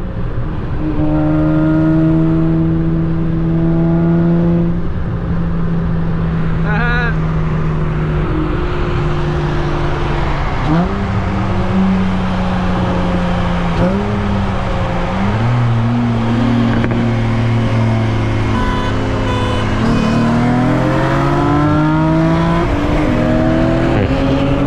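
A 2006 Acura TL with a six-speed manual, custom 4-inch intake, J37 manifold and J37 throttle body accelerates hard. The loud engine note climbs repeatedly through several gear changes, each rise dropping back before it builds again, with no talking.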